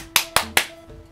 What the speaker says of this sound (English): Just clapping at you.